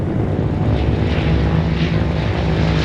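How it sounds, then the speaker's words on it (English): Steady drone of propeller transport aircraft engines during a French military airlift from air bases in Hanoi and Haiphong, continuous and loud with a low throbbing hum, no voices. "Navarre orders the airlift of a large force from the Gia Lam Air Base in Hanoi and Gap Ba in Haiphong"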